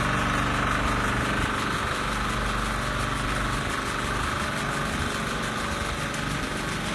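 Bush Fire Pro sprinkler system pump running steadily, a continuous engine-like drone with broadband water spray hiss, loud and unbroken throughout with no talk.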